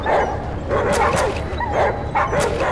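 A dog barks, yips and whimpers in a burst of repeated yelps during a fight in the video game ATOM RPG, loud and close with a steady game background underneath.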